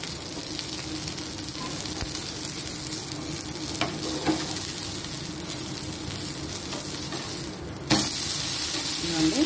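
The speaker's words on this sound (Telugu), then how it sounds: "ఇదిగోండి ఇది కూడా కాలుతుంది, తిప్పేసుకున్నాము." Rava dosa sizzling and frying on a hot pan, a steady loud crackle throughout, growing a bit louder near the end.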